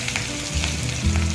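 Onions and chillies sizzle loudly in oil left over from frying fish for a bamboo shoot fish curry, a brief, continuous close crackle.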